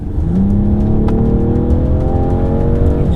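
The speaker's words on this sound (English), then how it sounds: "Now if I just knock it down a couple of gears and just let you hear the sound of this engine." A new BMW 4 Series' straight-six engine revs loudly and continuously up close, its pitch climbing steadily as it accelerates through the gear.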